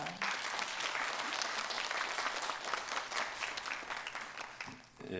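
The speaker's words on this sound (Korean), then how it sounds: "여러분 박수로 환영해 주십시오." A congregation applauds at a church women's worship service to welcome a pastor, sustained even clapping that thins slightly near the end.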